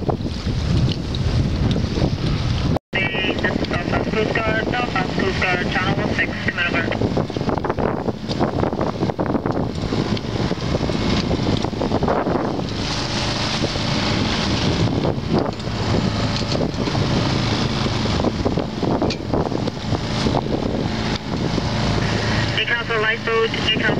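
A sailboat's engine runs steadily under heavy wind buffeting the microphone, with water and wash around the hull filling the whole stretch at constant loudness.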